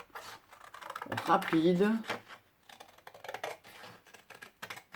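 Paper for a handmade butterfly-inlay card being cut, heard as a run of sharp, closely spaced clicks and snips after a woman's speech, with occasional talk between the cuts.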